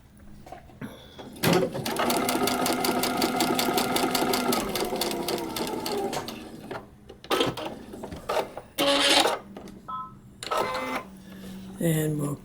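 A sewing machine stitches a paper-pieced quilt block in one loud, steady run of several seconds, then stops and gives a few short bursts, with handling noises and a voice speaking between them.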